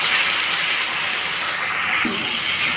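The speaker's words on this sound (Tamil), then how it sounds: "இது வந்து இஞ்சி பூண்டு பேஸ்ட்டு சேர்த்த பிறகு சும்மா ஒரு 30 செகண்ட்ஸ் வந்து நல்லா ஃப்ரை பண்ணி விட்டால் போதும்" Ginger garlic paste fries in a pan for an aloo capsicum masala, giving a loud, steady sizzle throughout. A soft knock sounds near the end.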